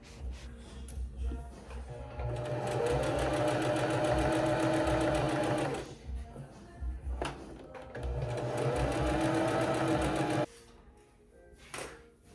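Sewing machine straight-stitching down linen trousers: two long bursts of rapid, even needle chatter separated by a short pause, close and loud, with quiet handling sounds in between.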